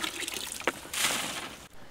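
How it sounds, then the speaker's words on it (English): Rinse water drains and trickles from freshly rinsed biochar charcoal set on a screen, a soft, close dribbling with a brief louder splash of pouring water midway before it thins out. "you put it on another screen to let it drain a little bit more"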